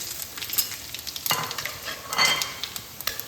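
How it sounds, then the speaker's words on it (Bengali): Whole spices, dried red chilies and bay leaves, tempering in hot oil left from frying shrimp-lentil fritters. The sizzle is soft and constant, broken by frequent crisp pops, crackles and stirring clatter, up close with no talking. "এটা আমি এই বড়া ভাজার তেলে ফোড়ন দিয়ে নিচ্ছি"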